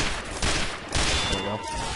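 Gunfire in Team Fortress 2 rattles in dense, overlapping bursts, loud and close, keeping up steadily across the moment.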